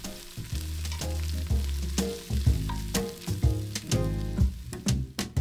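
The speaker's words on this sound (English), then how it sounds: "Cut onion into slices and cook in hot oil until golden." Onion slices frying in hot oil, a close, steady sizzle with irregular crackles and pops, broken by a few bursts of stirring.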